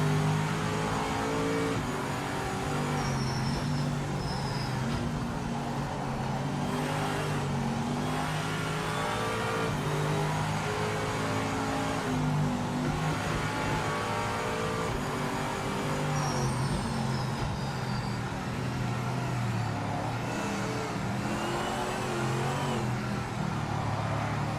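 GT race cars roar continuously in the sim racing game Project Motor Racing, loud, dense engine drones rising and falling through gear changes and revs for the whole stretch, with no voices over them.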